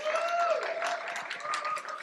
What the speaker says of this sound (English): I'd like to do just a quick round of applause for the groups you're about to hear